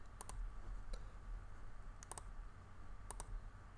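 Typing on a computer keyboard while building a Netflix page in HTML and CSS, sparse quiet key clicks in small bursts over a faint steady background hum.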